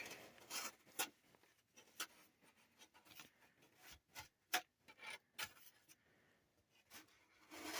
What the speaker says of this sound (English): Just take the box cutter